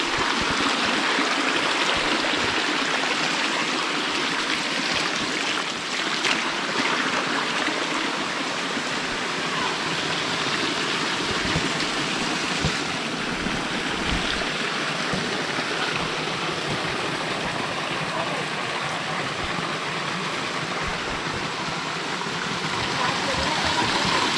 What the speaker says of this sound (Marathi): इकडून पाण्याचा पाठ आहे बघा